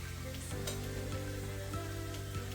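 Food frying in a pan of hot oil, a steady close sizzle with small crackles and pops, heard alone without talk.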